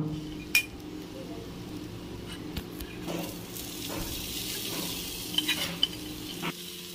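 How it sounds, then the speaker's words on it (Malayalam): Chickpeas go into a pan of frying onion and chilli masala and are stirred, giving a steady sizzle with scraping and clinks of a spoon against the pan, sharp knocks standing out now and then. "നമുക്കിനി കടല ഇതിലേക്ക് ഇട്ട് കൊടുക്കാം"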